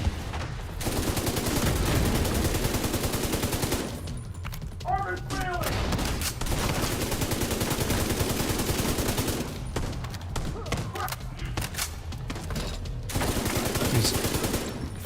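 Sustained video game gunfire with dense rapid bursts across most of the stretch, loud and close, briefly dropping off twice before resuming, with game voices and talk mixed in.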